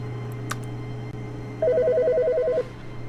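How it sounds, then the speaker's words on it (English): An office telephone rings in The Stanley Parable, a rapid warbling electronic trill that lasts about a second over a steady low hum and then stops. "Which telephone is ringing?"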